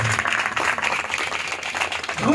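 A church congregation applauds loudly for the Holy Spirit, a dense continuous wash of clapping lasting throughout, with a voice audible over it.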